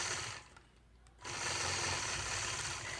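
A sewing machine runs stitching a quilt block point to point, a soft steady whir that pauses briefly for under a second and then resumes, close and fairly quiet.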